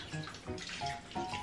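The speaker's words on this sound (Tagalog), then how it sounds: "Lagyan din natin siya ng konting tubig." A little water poured into a cooking pot, a brief splashing gurgle lasting about a second, close and moderately loud.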